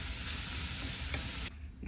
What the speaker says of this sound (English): after I sear these up so I can use this wok pan again